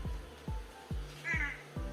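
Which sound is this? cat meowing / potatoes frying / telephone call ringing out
cat meowing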